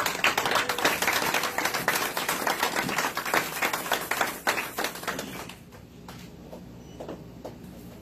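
A church congregation claps in a dense, brisk burst that fades sharply after about five seconds, leaving scattered claps over a quiet room.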